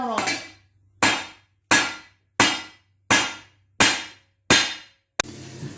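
Seven evenly spaced, loud ringing metal strikes as a hammer hits straight down on a leaf spring leaf from a 2003 Dodge RAM 3500 dually being rebuilt, each blow decaying before the next, ending in a sharp final tap.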